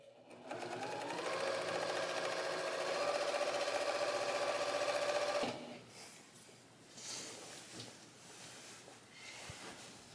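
A sewing machine running continuously while free-motion quilting a meandering stitch, a steady close mechanical whir for several seconds, then it stops, leaving quiet handling noises.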